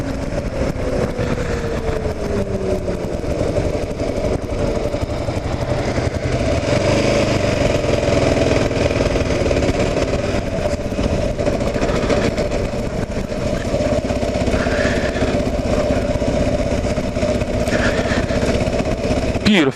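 A vehicle engine runs steadily throughout a ride. The motor drones loud and continuous up close with a constant rumble, and voices talk faintly in the background.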